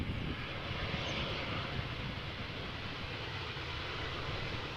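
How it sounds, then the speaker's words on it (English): An Embraer 190 airliner arriving at Amsterdam Schiphol Airport from London City, a steady broadband jet engine roar that holds even and fairly loud throughout. "An Embraer 190 arriving from London City."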